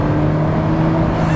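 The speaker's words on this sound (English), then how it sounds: "I love hearing the turbos in a Ferrari." Ferrari F40 with its twin-turbo engine while driving, a steady loud drone with a constant whirring tone and no breaks, heard from inside the car.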